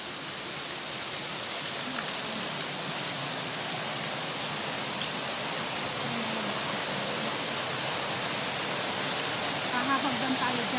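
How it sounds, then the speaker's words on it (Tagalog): Waterfall on the Fung Nei stream, a steady broadband rush of falling water filling the whole clip at a constant level, close and continuous with no break. "dito tayo mag-uumpisa na aakyatin yung waterfall"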